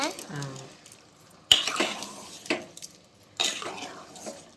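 A metal lid clanks down onto a cooking pot of pulao with a few distinct knocks and rattles spaced over several seconds, after a voice speaks at the start.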